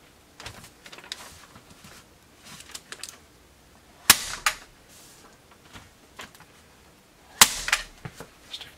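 Staple gun driving staples through Tyvek home wrap into a pole barn wall, two sharp close snaps several seconds apart amid soft rustling and handling of the wrap.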